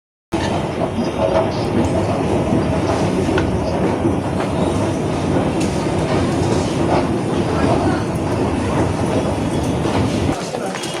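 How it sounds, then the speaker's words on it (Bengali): A train rumbles steadily at a railway station platform, a continuous loud clatter of rolling wagons and wheels lasting several seconds before cutting back to a quieter background. "তো ট্রেন একটা ওখানে দাঁড়িয়ে রয়েছে নিচে"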